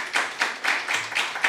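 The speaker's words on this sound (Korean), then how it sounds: "박수로 웰컴" A church congregation claps in welcome for a returning member during a Sunday service, a rhythmic run of several even claps at a steady pace, fairly close and without talk.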